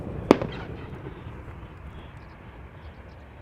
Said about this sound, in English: some fireworks being set off by